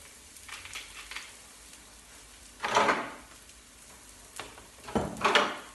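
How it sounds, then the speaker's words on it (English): Onions fry in a pan as they start to brown, making a quiet background sizzle broken by a few louder stirring or scraping bursts. "My onions are just beginning to brown, hopefully not catching too much."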